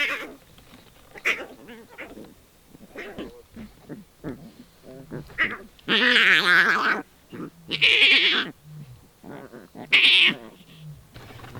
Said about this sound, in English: We can hear some cubs calling in the drainage line.